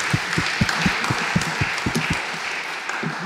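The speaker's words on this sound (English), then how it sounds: "Round of applause for team Georgia." Audience applause in a competition hall after a team is introduced at a physics tournament final, a steady patter of many hands clapping with scattered sharper claps, moderately loud throughout.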